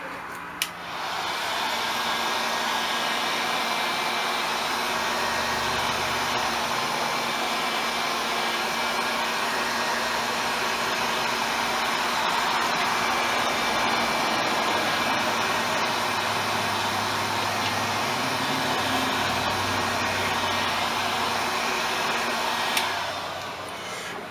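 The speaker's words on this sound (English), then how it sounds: "I'm going to hit this with the heat gun again" A heat gun blows steadily and close for the whole stretch, a loud constant whooshing hiss of hot air used on a black mirror craft project, switching on at the start and cutting off near the end, with no talking.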